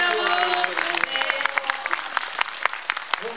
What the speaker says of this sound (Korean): 박수 한번 보내주세요, 여러분.